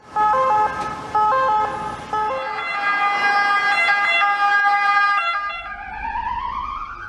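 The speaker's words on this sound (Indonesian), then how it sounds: "Wih, ada sirenenya." A red-and-white toy ambulance plays its electronic siren loudly up close, starting with a stepped two-tone pattern, then a steady wail, and ending in a rising sweep, with no voices over it.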